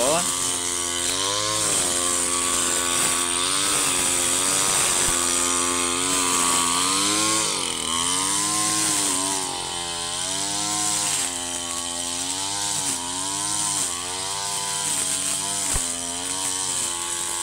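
A handheld grass cutter runs steadily at close range for the whole stretch, its small two-stroke engine whining with harmonic pitch that rises and dips as the throttle is worked while clearing a banana grove.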